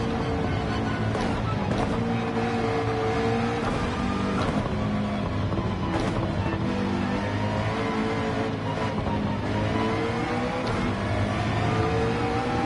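A race car engine held at full throttle in Gran Turismo 7 drones loudly and continuously, its pitch sweeping up and down as the car works through a section of track.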